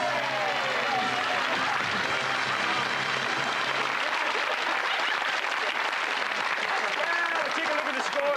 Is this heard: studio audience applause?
yes